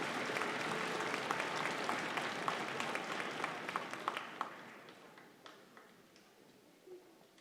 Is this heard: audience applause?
yes